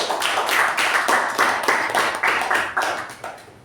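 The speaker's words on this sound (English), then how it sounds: "Can we have a round of applause for the Sergeant at Arms, please?" A small group at a Toastmasters meeting claps steadily for a few seconds, a light, even patter of applause with no voices.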